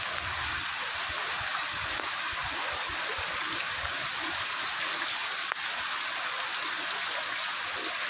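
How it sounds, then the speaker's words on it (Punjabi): Rainwater runs through the flooded streets of a town in Punjab as a steady, broadband rushing wash. It stays even throughout with one faint click partway, and nobody speaks. "ਕਿੱਥੇ ਕਿੱਥੇ ਮੀਂਹ ਪੈ ਰਿਹਾ ਕਿਹੜੀ ਕਿਹੜੀ ਗਲੀ ਵਿੱਚ ਕਿੰਨਾ ਕਿੰਨਾ ਪਾਣੀ ਖੜ ਚੁੱਕਿਆ"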